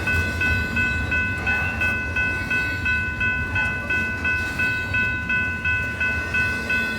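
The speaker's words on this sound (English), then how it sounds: "BNSF 4205 kicks up snow as it leads one of the company geometry trains east through our location." BNSF 4205 leads a company geometry train east through snow on a frigid January morning, a loud steady rumble with rhythmic clicking wheel beats and a sustained tonal whine passing close by throughout.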